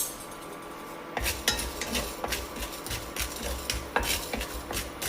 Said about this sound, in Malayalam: ചൂടായ പാനിലേക്ക് ആദ്യമേ ഉപ്പുകല്ല് ചേർത്ത് വറുത്തെടുക്കാം